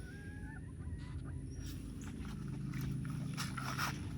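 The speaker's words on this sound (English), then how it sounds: "And there's some chickens." Poultry on a Central Texas homestead calls out in a few short squawks and honks over a low steady hum, with soft shuffling steps nearby.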